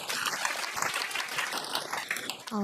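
Audience clapping to welcome a speaker at a youth policy forum, dense continuous applause for a few seconds that cuts off abruptly near the end.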